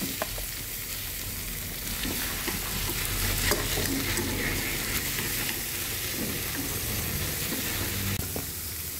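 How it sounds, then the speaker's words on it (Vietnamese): Meat stir-fried with water spinach and fried shallots in a hot pan, a steady loud sizzle with scraping and tossing strokes throughout, and no one speaking. "xào rau muống"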